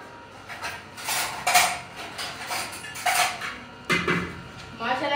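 Dishes, pots and pans are handled for washing after breakfast in a village home, giving close, repeated clatters and metallic clinks in uneven bursts, with light talk at times.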